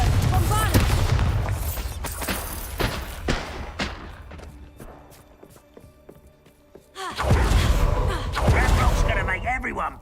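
Confringo and Bombarda spells from Hogwarts Legacy burst in heavy, booming blasts with thuds between them, a loud rumbling explosion returning near the end, while voices speak over the action.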